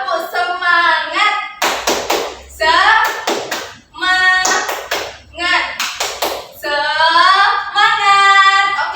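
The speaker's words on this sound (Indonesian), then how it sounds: "Ayo, Ibu contohin terlebih dahulu ya, tepuk semangatnya." A teacher demonstrates the rhythmic 'tepuk semangat' spirit clap for a primary class: crisp groups of close hand claps alternate with her chanted, sing-song voice.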